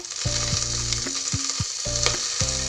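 Curry leaves sizzle in hot oil for a South Indian rice-and-lentil dish, a steady close crackle with a few soft spatters throughout, while music plays underneath.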